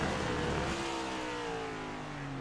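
Race car engine in the iRacing video game at Circuit of the Americas, a loud sustained engine drone whose pitch falls steadily as the car downshifts, close and continuous.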